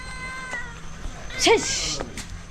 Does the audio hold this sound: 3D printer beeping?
no